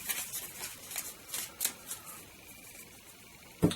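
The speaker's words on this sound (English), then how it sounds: "Alright, so we just give those a shuffle." A deck of board game cards for the Dawn of the Zeds third edition is shuffled close up, giving soft papery riffles and rustles, a few sharper snaps, and a final tap at the end, with no talking.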